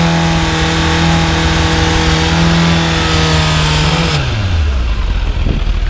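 Motorcycle fitted with a Scorpion exhaust held at a steady 5000 rpm for a sound-level test, a loud, close, constant buzzing drone that then drops smoothly back toward idle.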